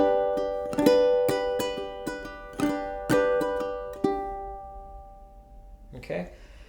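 Ukulele playing three bars of a song, with strummed chords including a sus chord and a steady, clear rhythm, followed by a ringing decay and a brief handling sound near the end.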